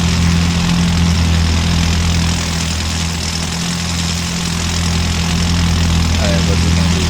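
Car engine in Automation / BeamNG.drive, likened to a Mitsubishi Lancer rally edition, a loud steady droning idle with a buzzy low rumble throughout, and a person talking over it.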